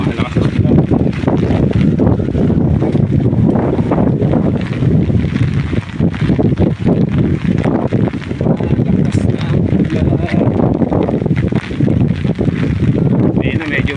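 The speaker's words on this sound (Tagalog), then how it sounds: "Ay! Hangin." Strong typhoon wind roars steadily and loudly throughout, a dense continuous rush with gusty swells during a power outage, with voices talking faintly beneath it.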